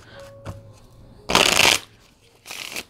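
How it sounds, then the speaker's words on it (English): Cards drawn from a deck, with two quick bursts of shuffling and riffling, close and crisp, the first louder than the second, with a faint tap before them. "I usually get 2 cards. Let me get 2 cards."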